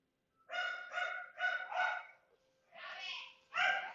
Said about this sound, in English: These stupid dogs.